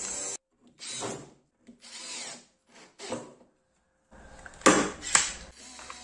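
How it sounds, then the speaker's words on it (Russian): A power drill drives self-tapping screws into a plywood workpiece fixed to a workbench, in several short whirring bursts separated by pauses, ending with louder, grinding runs as the screws seat. "и при помощи саморезов фиксирую."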